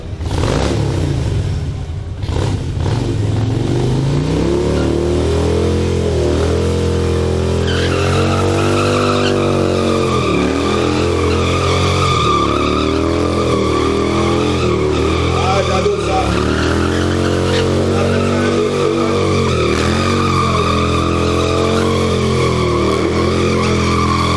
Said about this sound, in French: Si vous regardez bien, la roue derrière, elle tourne là.